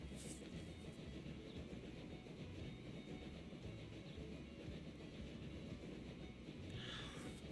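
Train running on rails in a railroad video game set on the Rock Island Line crossing the Mississippi, a steady loud rumble with a continuous rolling drone and faint clatter, no voices.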